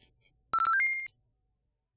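Short video game jingle for falling short of the ring count needed for a bonus stage: a brief run of bright, rising electronic tones over roughly half a second, then silence and a faint final click.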